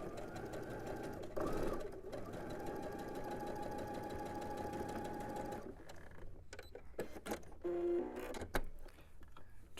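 A sewing machine stitches quilt triangles corner to corner in a steady, close whirring run. It stops after about six seconds, and shorter stitching bursts and handling clicks follow.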